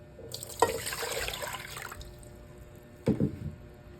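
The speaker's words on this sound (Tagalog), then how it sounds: "So una, ilagay natin ang 3 tasang tubig." Water runs steadily into a cooking pot for about a second and a half, then a brief second splash follows; close by, no talking.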